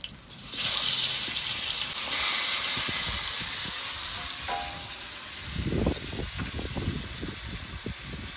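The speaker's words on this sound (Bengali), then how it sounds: "এবারে বাকি মাছগুলো এভাবে ভেজে নেব" Tilapia fish fry in hot oil, a loud rushing hiss that swells early and then settles into a softer sizzle with spattering crackles toward the end.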